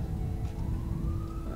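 Sirens wail in The Witcher 2: Assassins of Kings Enhanced Edition, a steady sustained tone over a low rumbling background for a brief stretch, with no talking.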